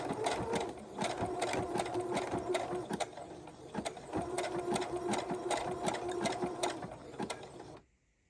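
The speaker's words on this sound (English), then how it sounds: "I feel that that's going to be more supportive sewing it with the machine." A sewing machine sews a zigzag stitch along a seam in crocheted trousers, its needle ticking in a fast, even rhythm for nearly eight seconds before it suddenly stops.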